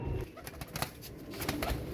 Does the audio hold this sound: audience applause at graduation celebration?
no